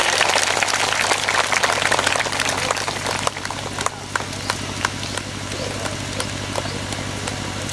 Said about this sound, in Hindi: जोरदार तालियों से आप लोग इन बच्चों का उत्साहवर्धन करें।